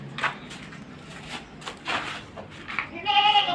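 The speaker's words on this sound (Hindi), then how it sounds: "चड्डा देखो माशाल्लाह से फुल तैयारी पे है ये बकरी और ये मेरे को सेल करनी है।" A goat at a busy goat market bleats in several short calls, with someone talking nearby and market clatter in the background.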